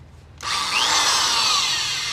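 A power drill whirs as it drives a screw into an aftermarket car lip in a garage, starting abruptly after a brief quiet and running steadily for about two seconds up close.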